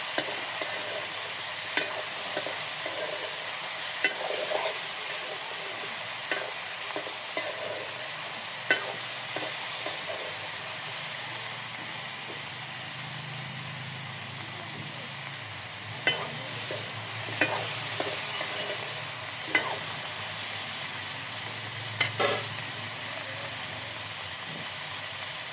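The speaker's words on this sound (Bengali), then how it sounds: "নেড়ে চেড়ে ঢেকে ঢেকে কপিটাকে খুব সুন্দর মতো কষিয়ে নেব।" Cauliflower being stirred and fried in a pan with salt: a steady sizzling hiss throughout, broken by intermittent scraping stirs and clinks of the spatula, close and continuous.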